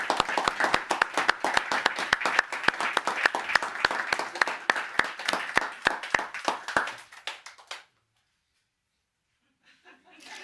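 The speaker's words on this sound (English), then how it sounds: "let's give everyone another round of applause." A conference audience claps steadily, a dense, lively round of applause with a few sharp individual claps standing out, fading and stopping abruptly before a short stretch of near silence and faint noise at the end.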